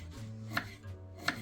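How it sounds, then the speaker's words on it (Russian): A knife chops a radish into half-rings on a cutting board in a kitchen: two crisp, close strikes about a second apart over quiet room tone, with no talking. "Нарезаем вот такими вот полуколечками."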